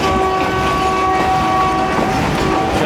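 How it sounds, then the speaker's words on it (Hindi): An HBU20 locomotive horn blares steadily and loudly for about three seconds, its sustained tones riding over the rumble and clatter of a moving Jand shuttle train. "HBU20 का हॉर्न सुना।"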